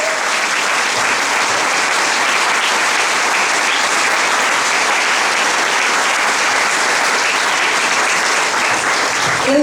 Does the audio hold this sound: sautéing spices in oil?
no